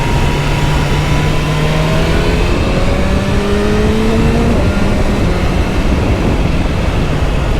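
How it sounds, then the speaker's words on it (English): A BMW S1000R motorcycle engine runs continuously and loudly, its tone rising and falling as it revs, with heavy wind noise on a rough day. "Sound good, this bike. It does sound good."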